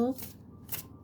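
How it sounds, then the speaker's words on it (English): A light Muse Tarot card deck is shuffled up close in two quick papery riffles, with a brief bit of voice at the very start. "It's such a fun deck to shuffle."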